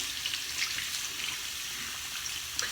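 Tap water runs steadily as a clay face mask is rinsed off at a sink, a soft continuous splashing hiss with a few small splashes near the end and no voices.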